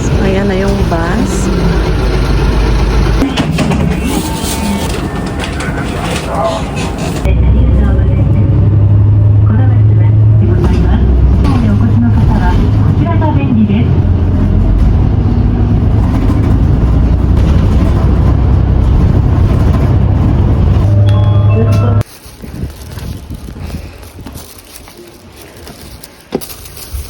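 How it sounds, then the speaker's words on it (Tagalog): A bus arrives at a stop in Japan, its heavy engine rumbling loudly and steadily at idle for about fifteen seconds before cutting off abruptly, with street noise before and after. "So, ayan na yung bus."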